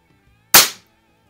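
A single sharp crack from a Weihrauch HW50S spring-piston air rifle firing in a garage, loud and close with a quick decay into silence.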